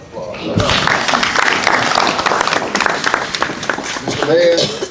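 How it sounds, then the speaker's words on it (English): An audience at a city awards ceremony claps in a dense, sustained round of applause for nearly five seconds, close and fairly loud, with scattered thumps mixed in. "I think that deserves another round of applause."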